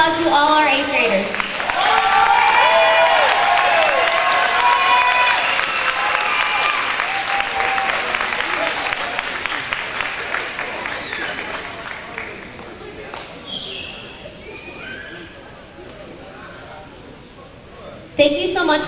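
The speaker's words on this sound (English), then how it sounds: "Please give a big round of applause to all our 8th graders" A crowd at an 8th grade promotional ceremony applauds the graduating students, loud sustained clapping that swells early and then slowly thins and fades, with voices and cheers mixed in.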